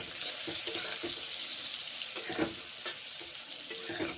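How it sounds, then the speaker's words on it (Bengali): Pointed gourd pieces frying in hot oil, giving a steady sizzling hiss with intermittent stirring scrapes and clinks, close and fairly loud, and no voices. "প্রথমে পটলগুলো ভেজে নিচ্ছি।"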